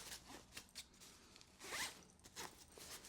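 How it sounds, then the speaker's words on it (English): A zipper on a packing cube zipped closed in a few quick rasping strokes, with one louder, longer pull in the middle; close and with no talking. "Then I'll close up these main zippers."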